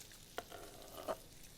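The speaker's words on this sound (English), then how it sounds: "You can hear that sizzle." Bacon sizzles and crackles softly in a pan, a steady frying hiss with a couple of small pops.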